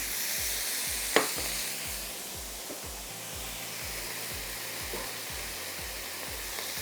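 Potatoes sizzle and fry in a hot pan with sautéed ginger, garlic and curry leaves, a steady hiss, a sharp clatter early on, and soft stirring scrapes, no voices.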